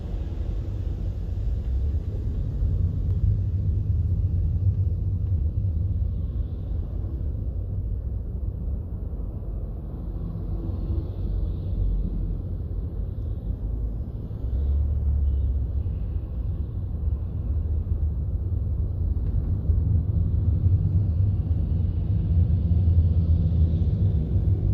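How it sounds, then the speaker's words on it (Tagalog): Inside a moving vehicle in slow Kuwait traffic, a steady low road rumble and engine drone fill the cabin, with faint passing vehicles outside and no talk. "Medyo may konting traffic lang."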